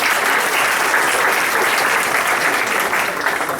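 Seminar attendees clap in a steady, dense round of applause that fills the room from start to finish.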